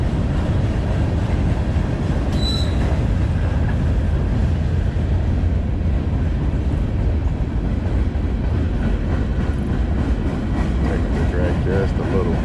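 A train passes near a riverbank fishing spot, a loud continuous rumble with rattling wagons filling the whole stretch under outdoor wind noise, with a brief whistle-like tone early on.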